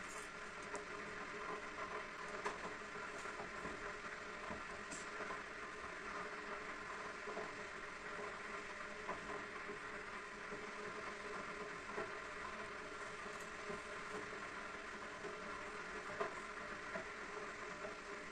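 Sewing machine stitching fabric for a turban, a steady faint mechanical hum with soft rapid patter running continuously for the whole stretch, no talking.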